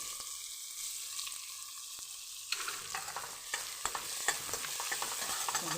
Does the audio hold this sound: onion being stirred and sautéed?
yes